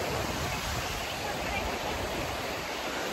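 Sea waves at Colva Beach in South Goa roll in as a steady, loud broadband wash of surf with no distinct breaks across the few seconds.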